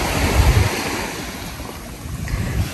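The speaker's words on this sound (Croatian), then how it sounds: "Puteljak i izlaz na najljepši ocean na svijetu." Ocean waves wash onto a Maldives beach with a steady rushing surf, a soft low swell near the start, and wind noise buffeting the microphone.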